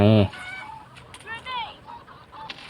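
A short loud squawk followed by a few fainter clucking chicken calls in the shooting game Bullet Angel: Xshot Mission M, with light background noise between them.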